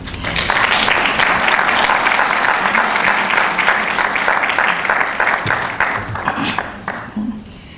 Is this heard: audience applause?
yes